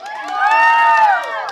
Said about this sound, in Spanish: Grito y aplauso para él.